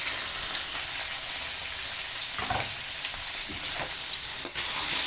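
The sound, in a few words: marinated pork strips frying in a pan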